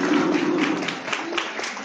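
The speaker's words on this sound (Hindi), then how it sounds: "तालियां तो बजा दो" A sparse, uneven patter of audience clapping at a launch event, fairly soft and brief, with a low murmur underneath.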